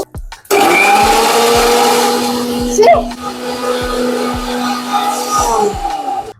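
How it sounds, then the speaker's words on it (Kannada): Mixer grinder (mixie) blending ingredients for veg momos: a loud, steady motor whir with rhythmic knocking of contents in the jar, running continuously for several seconds with a brief voice partway through. "ಈಗ ನಾವು ಇದನ್ನು ಮಿಕ್ಸಿಯಲ್ಲಿ ಹಾಕಿ ಮಾಡ್ಬೇಕು"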